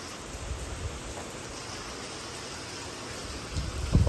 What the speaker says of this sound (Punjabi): ਆ ਦੇਖੋ ਛਾਟੇ ਵਾਲਾ ਮੀਂਹ ਆ ਬਾਈ